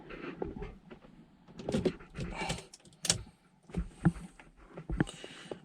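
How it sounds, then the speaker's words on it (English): Ignition switched on in a Volvo V70/S60 facelift: a run of close clicks and short electric whirs from the dashboard and console, irregular and moderately loud, with no one talking. "So if I switch on my ignition"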